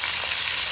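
Pork steaks frying in a pot, a steady close hiss and crackle of sizzling fat with no voices over it.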